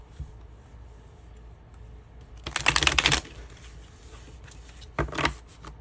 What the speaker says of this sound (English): these cards are a bit hard to shuffle sometimes.